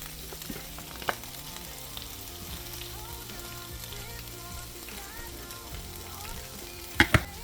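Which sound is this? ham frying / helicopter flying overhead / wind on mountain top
ham frying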